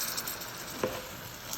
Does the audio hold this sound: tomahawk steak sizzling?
yes